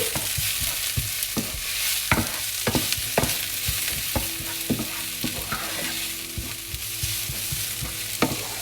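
Onions frying in oil in a pan for cream salmon spaghetti, a close continuous sizzle broken by frequent scraping and stirring knocks of a utensil, with no talking.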